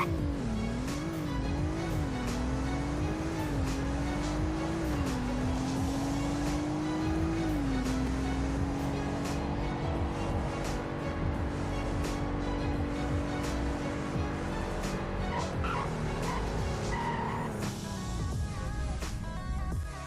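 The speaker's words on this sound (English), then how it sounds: "0 to 100 braking test." A Ford Taurus variant in the Roblox game Greenville revs hard through several rising gear shifts, then settles into a steady engine drone. It ends with a skidding stop and a tire screech, with no talking.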